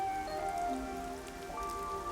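Steady rain patters on surfaces in the video game Master Detective Archives: Rain Code, a constant wash of drops mixed with soft tonal game music and no talking.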